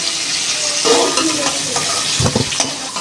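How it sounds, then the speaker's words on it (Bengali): Cauliflower pieces fry in hot oil while being stirred, giving a steady close sizzle with scraping and stirring noises throughout and no speech. "ফুলকপিটা দেখুন লাল লাল করে ভাজিয়ে ভাজা হয়ে গেছে"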